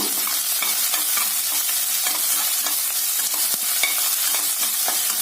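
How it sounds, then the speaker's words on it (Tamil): Onion and curry leaves are sautéed in oil for a beetroot potato poriyal. A continuous close frying sizzle runs throughout, broken by quick scrapes and clinks of a spatula being stirred against the pan. "நல்லா இந்த எண்ணெயில வதக்கி விடுங்க."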